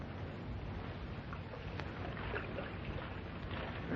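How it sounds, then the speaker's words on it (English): Steady broadband wash of water and wind from a canoe paddling away across a lake, staged as a radio drama sound effect set in the wilderness, continuous and moderately soft with no voices. "I'll paddle off in the lake and wait for a signal."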